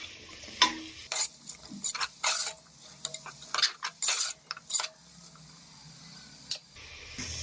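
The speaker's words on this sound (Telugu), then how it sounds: "మనం కట్ చేసుకున్న ఆనియన్ ఫ్రై చేసుకుందాము." Chopped onion frying in a pan for mushroom biryani, stirred with a utensil: quick clinking scrapes and bursts of sizzle in uneven runs, close by, with quiet pauses between strokes.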